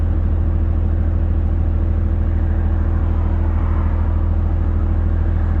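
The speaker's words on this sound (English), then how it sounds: "There's traffic as far as the eye can see." Truck cab near a port in heavy road traffic: a constant low engine rumble with a pulsing idle drone and a faint whir above it, steady throughout.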